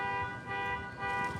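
A car alarm sounds in the background as a steady, fairly loud electronic tone with several harmonics, holding throughout with slight swells.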